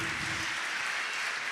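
Applause from a church congregation during a Sunday Mass homily, a steady wash of clapping at moderate level that carries on alone.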